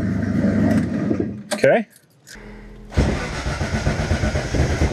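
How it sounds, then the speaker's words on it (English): A car engine cranks briefly, stalls into a near-silent pause, then fires up and settles into a rough, steady idle close by on a cold morning, with a short spoken word before the restart. "I was able to fire up the car a little bit quicker than it normally does"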